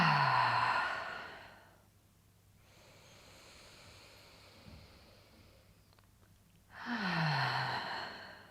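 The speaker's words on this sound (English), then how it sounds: "we're going to do an inhale and a big exhale through the mouth" A long exhale through the mouth at the close of a yoga breathing session: one deep breathy sigh fades out, then quiet, then a second strong breath swells near the end, close and alone.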